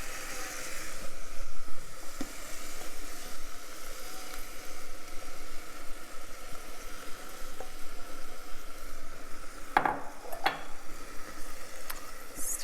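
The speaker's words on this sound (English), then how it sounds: "now it's time to dump in tomato sauce" Tomato sauce hits the hot inner pot of an Instant Pot, giving a steady broadband sizzle and hiss that holds throughout, with a couple of brief clinks near the end.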